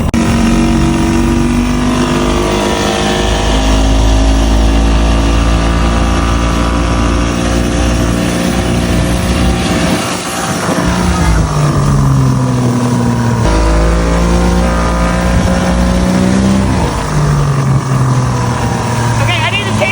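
A 1959 fiberglass runabout boat's motor runs steadily and loudly throughout, smoking, its pitch rising and falling as the throttle changes, with people talking over it.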